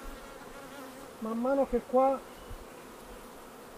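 Honey bees buzz at a hive in an apiary of small nucleus colonies, with a few close, loud buzzing passes rising over a quiet background while someone speaks.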